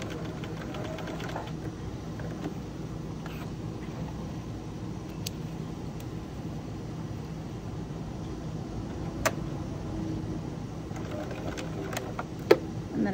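A sewing machine runs steadily while stitching a patch pocket hem along the seam allowance, a continuous low mechanical hum with faint clicks, close and alone with no talking.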